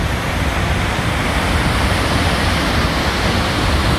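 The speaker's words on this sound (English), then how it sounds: "This is the River Baker." The Baker River flows near its confluence with the Nef, a steady, loud rush of water filling the whole stretch without a break and with no voices.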